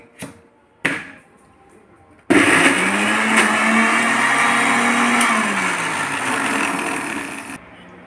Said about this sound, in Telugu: ఇలా కచ్చపచ్చగా నూరుకోవాలండి మిక్సీలో.